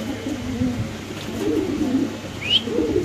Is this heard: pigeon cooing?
yes